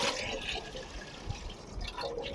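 Running water splashes and trickles steadily as duck meat is washed by hand, a close, continuous wet rush with small drips and sloshes throughout.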